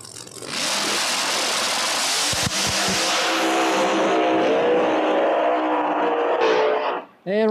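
No-prep drag racing cars at Flying H Drag Strip roar loudly as they launch and pull hard down the strip, a sustained close engine blast with tire noise that cuts out abruptly, then a high revving whine.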